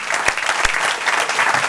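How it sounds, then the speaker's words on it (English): An audience at a sports business panel applauds the panelists, a dense, steady burst of many hands clapping with a couple of sharper individual claps standing out. "Give a big round of applause"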